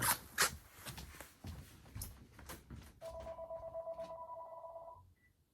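A telephone rings with a steady electronic two-tone ring that starts partway through and lasts about two seconds, fairly close, after a stretch of shuffling and handling noise.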